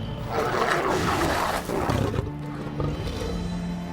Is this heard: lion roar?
yes